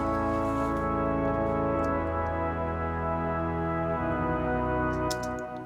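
A synthesizer keys patch reworked with effects and EQ plays full, sustained chords with a dense, warm tone and no talking. One chord change comes partway through, and the sound fades slightly at the close.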